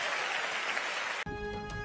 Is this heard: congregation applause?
yes